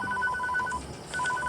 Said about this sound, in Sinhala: අපිට කෝල් එකක් යනවා